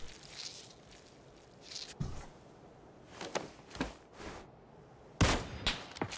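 Gunfire in PUBG Battlegrounds: scattered shots and short bursts in a tense firefight, with sharp loud cracks at mid-distance, the heaviest burst near the end, over a low background rumble.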